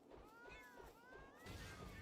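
A cat meows repeatedly from a kitten sword attack in the video game Palworld, several wavering cries in a steady rhythm over game noise, louder toward the end.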